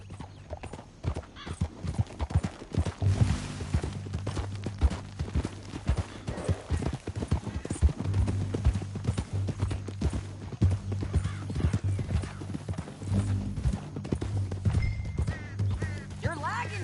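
Horse hooves clatter in a fast galloping rhythm with an occasional whinny in Red Dead Redemption 2, while a voice speaks intermittently over the hoofbeats.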